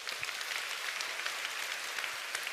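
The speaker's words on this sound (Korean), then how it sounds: "우리 박수 한번 쳐줄까요?" Seminar attendees break into applause, a brief burst of even, moderately distant clapping from a crowd.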